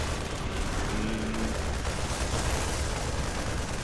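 A Widow Mine attack erupts in a StarCraft II battle, a dense burst of crackling, explosive combat noise, loud and continuous, with a brief tonal blip near the start.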